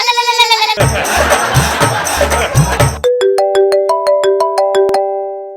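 A loud electronic ringtone plays a repeating tonal melody, briefly mixed with a burst of busy crowd-like noise before the chime pattern resumes clearly.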